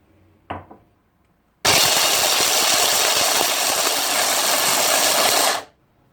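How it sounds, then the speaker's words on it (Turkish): A food processor grinds roasted chickpeas into flour, starting abruptly after a brief knock and running as a loud, steady whirring roar for about four seconds before stopping. "Öncelikle leblebilerimi un haline getireceğim. Hemen robotuma alıyorum."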